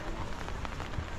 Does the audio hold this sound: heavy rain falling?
yes